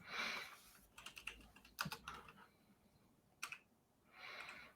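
Quiet typing on a computer keyboard at a desk, scattered bursts of key clicks in uneven rhythm, with short pauses between runs and no voice.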